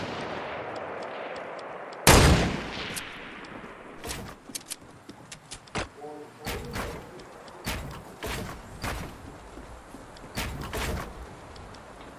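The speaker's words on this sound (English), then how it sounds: "we're getting sniped at from multiple places" Sniper gunshots in an online battle royale video game, a loud nearby crack followed by scattered booming shots and distant reports, some in quick pairs, over a low background.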